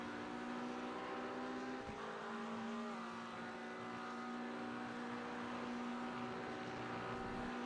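Race car at speed on the Road America circuit during an AARS race, a steady engine drone with a sharp shift or throttle break near two seconds, then a continuous sustained tone, constant and fairly loud throughout.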